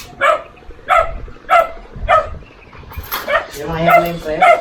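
A puppy barks in short, sharp yaps at a steady rhythm, close by, then whimpers and yips as people talk over it.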